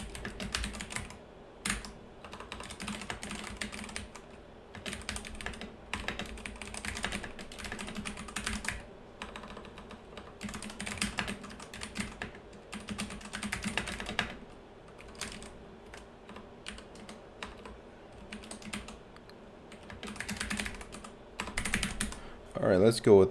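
Close computer keyboard typing while a resume is written: rapid, irregular key clicks in steady bursts with short pauses over about twenty seconds.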